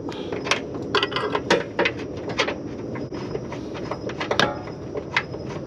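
A ratchet works the last bolt loose during a coilover install on an eighth-generation Honda Civic Si, giving quick bursts of metallic clicking with small knocks and shuffles between them, close and moderately loud.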